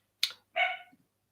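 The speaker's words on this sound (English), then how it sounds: "Excuse the poochie barking." A pet dog gives two quick barks close by, a short sharp yip followed by a fuller bark, in an otherwise quiet room during a live stream.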